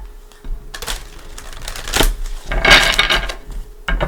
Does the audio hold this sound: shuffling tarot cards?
yes